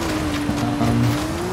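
In Forza Horizon 5, an A-class car's tires squeal in a sustained, steady screech over a low engine drone, loud and continuous through a turn.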